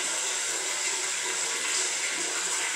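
Water draining through an outdoor setup on an off-grid homestead, a steady hissing gush of flowing water that runs evenly without pause, fairly close and with no talking.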